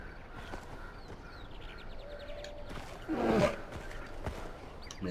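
A bear roars in the Far Cry Primal video game, a brief swelling growl that rises out of ambient wilderness game sound with faint bird chirps around it, loudest for about half a second near the middle.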